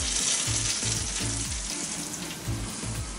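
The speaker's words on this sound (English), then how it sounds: "You hear it sizzling." A rack of pork sizzles steadily on a hot grill, a loud continuous crackling hiss with no pauses and no talking.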